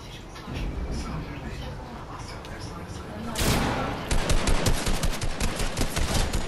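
Rapid automatic gunfire in Fortnite during a duo match, with a sharp burst about halfway through and then a fast, steady stream of loud close shots to the end. Voices and game sounds run underneath.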